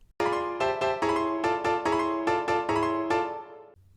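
A full section of Bartók's Bagatelle No. 2 on solo piano: a steady run of about ten struck, repeated chords with sustained resonance between them, played alone at moderate loudness.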